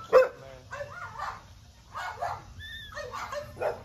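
Several dogs in a yard bark and yip in irregular bursts, close and fairly loud, with whimpers and sharp yelps between the barks.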